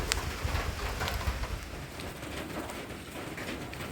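Steady rain falls in the Lao countryside, a dense continuous patter of drops on surfaces, fairly faint and even throughout with a few slightly louder splashes early on.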